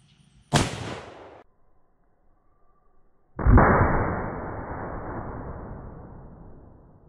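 Two booming shots from an 1886 lever-action elephant rifle fired outdoors, a sharp blast followed a few seconds later by a second heavier report with a long rolling echo that fades slowly, with no talk.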